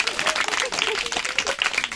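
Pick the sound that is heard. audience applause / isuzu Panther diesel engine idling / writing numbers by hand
audience applause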